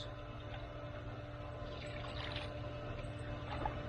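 Water poured over garden plants, muscadine vines, steady and continuous at close range, with a low mains hum running underneath and no voices.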